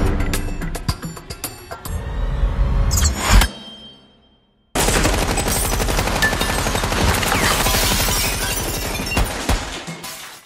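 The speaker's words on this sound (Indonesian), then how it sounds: "setelah melepaskan tembakan, The Frog berhasil kabur dengan merebut motor cross milik orang lain" Gunfire from an action scene in the film RED 2: loud, dense bursts of shots and crashing noise, a sudden drop to near silence for about a second, then a sustained heavy barrage.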